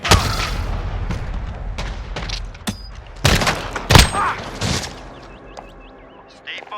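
Gunfire in Call of Duty Modern Warfare crackles through a busy firefight, with sharp loud shots and thumping impacts in irregular bursts, several strong cracks standing out over a lower rumbling bed, tailing off toward the end.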